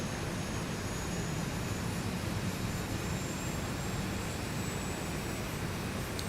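The second jet engine of a simulated Zibo Boeing 737-800 spooling up in X-Plane 11, a constant dense roar with rumbling lows and a thin high-pitched whine held steady over several seconds.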